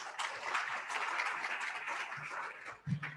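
An audience at a morning community gathering in Seminole applauds a newspaper reporter, a moderate, slightly distant patter of clapping lasting about three seconds with a small uneven bump near the end.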